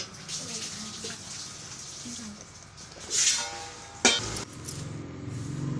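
Four kilograms of potatoes dropped into a pot of boiling water, a burst of splashing and clinking with one sharp splash, set against a low bubbling simmer at close range.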